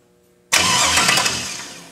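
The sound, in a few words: 1963 Chevy Nova 5.3 V8 engine starting up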